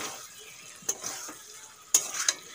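Marinated meat going into a pan of softened tomatoes, a soft steady sizzle broken by a few sharp clinks and scrapes of stirring, close and fairly quiet.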